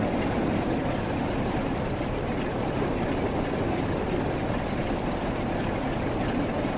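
Two Class 47 diesel locomotives haul nuclear freight on the West Coast Main Line in Train Sim World 6, giving a steady, dense rumble of engine and wheels that holds without a break or voices.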